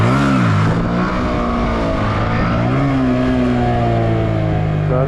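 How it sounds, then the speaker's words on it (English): Car engine held at a too-high idle from a faulty idle adjuster, a loud close droning hum that dips and climbs slightly in pitch, steady throughout with no talk. "I think the idle adjuster is making the engine speed too high."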